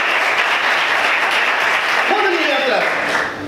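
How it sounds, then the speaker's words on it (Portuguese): Sustained applause rises from a church congregation at a worship service, the clapping loud and continuous, with a voice speaking over it in the latter part before the noise eases slightly at the end. "Aplaude o Senhor mais forte"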